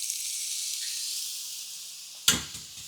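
A hot skillet hisses with a steady sizzle, then rice goes in and sets off a sharp, louder burst of frying that quickly settles, close and without talk.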